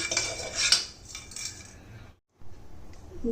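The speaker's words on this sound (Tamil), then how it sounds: "இது கொஞ்சம் வாசம் வர வரைக்கும் இந்த மாதிரி இதிலே வறுத்துக்கிடலாம்" Ingredients dry roasting in a pan for a mudavattu kizhangu soup, with metal utensil scrapes and clinks against the pan, a brief pause, then more stirring, close and moderately loud.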